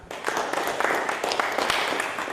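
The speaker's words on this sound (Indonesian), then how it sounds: "Tepuk tangan." A studio audience at an Islamic motivational TV show applauds, a dense, steady wash of many hands clapping for a couple of seconds, with no voices over it.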